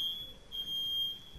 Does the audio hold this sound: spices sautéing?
no